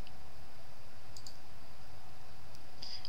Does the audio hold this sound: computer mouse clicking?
yes